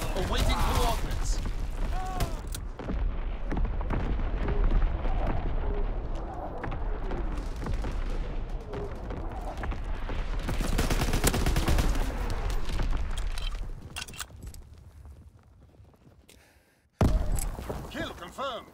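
A dense World War II battle in the video game Hell Let Loose on the Carantan map, with continuous gunfire and booming artillery blasts, loud and layered, with voices talking over the din before it briefly cuts out.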